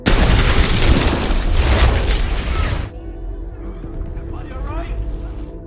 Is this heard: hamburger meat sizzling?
no